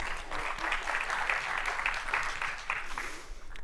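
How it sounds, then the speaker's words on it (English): An audience claps steadily, a dense wash of many hands applauding indoors that holds at an even level throughout. "Applause for yourself."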